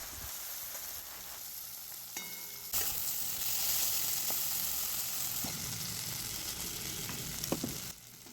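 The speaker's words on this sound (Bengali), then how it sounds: "পেঁয়াজটা হালকা একটু ভাজা হওয়ার পর এর মধ্যে দিয়ে দেওয়া হলো একটা ছোট টমেটো" Onion and a small tomato fry in a pan, a steady close sizzle that grows louder partway through, with a few light clicks of stirring and no talking.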